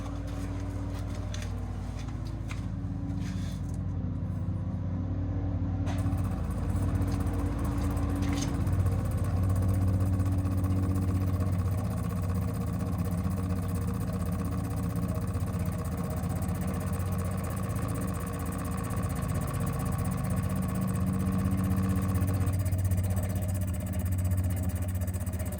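Electric fuel pump running on a 1971 MG Midget, a steady low droning hum with a faint rhythmic buzz, continuous for about twenty-five seconds, with a few brief clicks and taps near the start and no speech.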